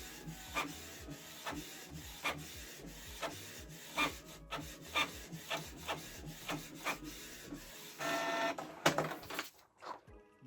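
A Canon Pixma G3410 inkjet printer prints a document up close with rhythmic mechanical clicks and rubbing paper-feed strokes that repeat steadily, then build into a louder whirring burst near the end.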